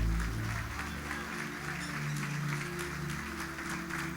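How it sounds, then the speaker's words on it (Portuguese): Church congregation applauds steadily in a continuous patter of clapping, moderately distant, over a low sustained organ or keyboard drone. "Os que podem, tomem o seu assento aplaudindo a Jesus porque Ele é bom"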